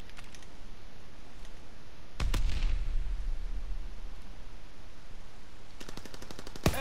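Gunfire in a multiplayer shooter video game: a sharp loud burst around the middle with a low rumbling tail, then a rapid run of automatic shots near the end, over steady background game noise.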